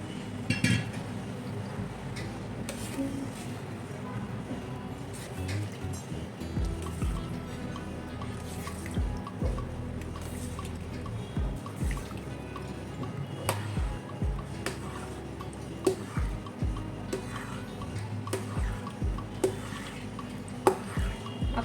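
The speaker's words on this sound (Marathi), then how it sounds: "आणि यात अजून थोडंसं गार पाणी घालून आपल्याला हे धुवून घ्यायचं आहे" Homemade butter being washed with cold water in a vessel while preparing traditional ghee, with soft splashing, clinking of utensils and scattered ticks and taps throughout, close and fairly quiet, no speech.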